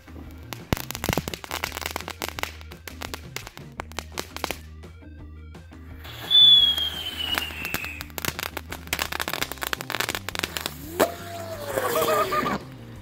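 Fireworks and firecrackers set off outdoors give a dense run of sharp crackling pops, a rising whistle in the middle and more bursts near the end, loud and close.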